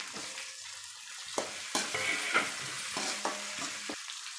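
Crushed garlic and a tomato fry in a pan for a Tamil potato fry, a steady close sizzle broken by several scraping stirs and soft clinks, with no talking.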